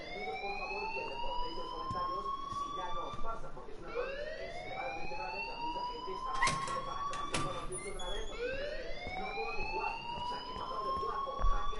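Wailing alarm in the game Life is Strange, rising siren sweeps repeating every few seconds, loud and continuous, with sharp clicks and people talking underneath.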